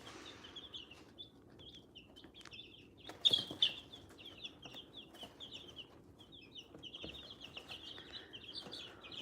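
Baby chicks peep in quick, high, repeated chirps, a small flock close by, with occasional soft clucks and brief knocks in the background.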